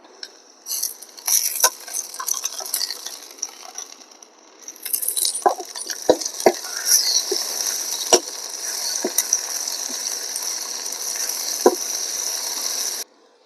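Chopped tomatoes sizzling in a pan of fried onion, garlic and ginger for a Punjabi kadhi, a steady hiss with light clinks and scraping of a spoon against the pan, no talking.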